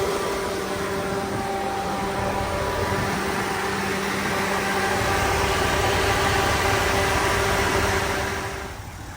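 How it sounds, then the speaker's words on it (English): A steady, loud electric radiator fan on a Chevrolet Tahoe, switched on high by the AC, whirs with a constant hum and broadband rush, holding evenly before easing slightly at the end. "So right now the AC is turning on this fan on high"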